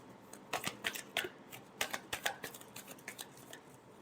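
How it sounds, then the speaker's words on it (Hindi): Tarot cards being shuffled in a series of crisp, rapid riffling bursts with brief pauses between, close and fairly quiet, with no talking. "Last shuffle."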